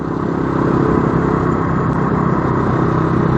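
A Triton 450 quad bike, fitted with an Aces 450 engine, runs loud and close in a steady, unbroken rumble with a rough clattering edge.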